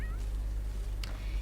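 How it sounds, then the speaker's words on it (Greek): A cat meows once in The Sims 3, a short high-pitched game sound effect over a steady low background hum, with a faint click later. "Νιάου, κάνει ανακύκλωση στις εφημερίδες η γάτα μας."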